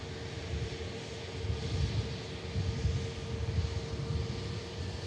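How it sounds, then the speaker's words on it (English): An EasyJet airliner arriving from Innsbruck at Manchester Airport rumbles as a low, steady, distant engine roar that swells and eases slightly, with a faint tonal whine above and no speech. "EasyJet just arrived in from Innsbruck, believe it or not"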